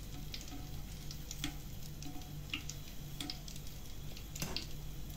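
Fish ball satay (sate pentol ikan, Palembang style) frying in hot oil, a steady close sizzle with scattered pops and crackles running throughout, no talking.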